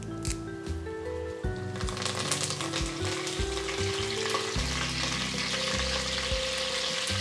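Curry leaves and fenugreek mix hit hot oil for fish head curry, giving a loud, steady sizzle and crackle with clattering and scraping of the pan throughout, no voices.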